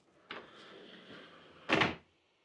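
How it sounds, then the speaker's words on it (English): Door at the genkan, the front entry of a house, sliding or swinging: a soft opening thud followed by a louder sharp close about a second and a half later, close by in a quiet room. "I put this door here to seal off the front of the house, the genkan."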